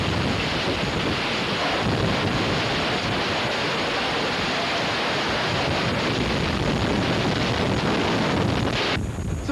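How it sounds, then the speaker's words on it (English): Hurricane Andrew's winds roaring at around 100 miles per hour in the early morning, a loud, constant rushing buffet battering the microphone without letup, with no talking. "as you can see, the winds are getting stronger"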